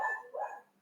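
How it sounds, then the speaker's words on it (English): A house dog gives two quick, close barks in a row, loud and clipped, fading into a short soft trailing sound indoors. "Sorry that my dog's going crazy."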